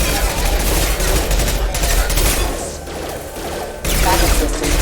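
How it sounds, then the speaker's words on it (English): Weapon gunfire in a loud, dense burst of rapid overlapping shots, dipping briefly before a fresh volley surges back, with no voices. "Firing."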